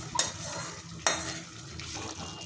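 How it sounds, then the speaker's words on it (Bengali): A spoon stirs fried fish pieces into a spiced mustard-oil curry in a pan, giving two sharp scraping knocks against the metal over a quiet, low simmering background. "মাছগুলো ভালো করে নেড়ে চেড়ে দিচ্ছি।"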